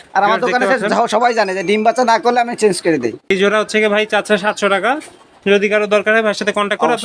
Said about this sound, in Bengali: এখানে দেখতে পাচ্ছি আরো কিছু সংখ্যক কবুতর আছে